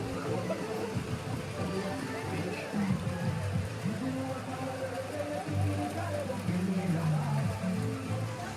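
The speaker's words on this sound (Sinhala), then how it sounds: "නතර වෙන්නේ නැති වැස්ස" Steady, heavy rain falls on the Sri Pada pilgrimage trail via Kuruwita Erathna at night, a dense continuous wash of drops hitting surfaces, with faint murmuring in the background.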